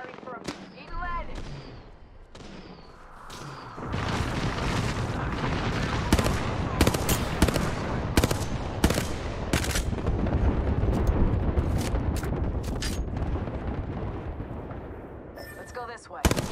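Gunfire in the battle royale game Apex Legends: sharp, rapid shots and bursts ring out close and loud over a steady background rumble, beginning after a few quiet seconds, with brief talk early on.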